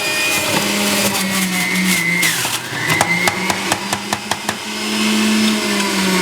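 A Breville Juice Fountain Plus runs on high while celery goes in, a loud close whirring motor with a rising pitch, then a string of sharp chopping clatters as the stalks are shredded, with the motor whine carrying on alone.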